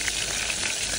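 Trout fries in a pan over an outdoor fire by a mountain river, a dense continuous sizzle with small bright pops, close and steady with no voices.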